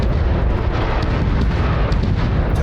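Explosions in the video game Crossfire Legion sound as a loud, dense, continuous roar of blasts and rumbling booms, with sharper bursts crackling on top.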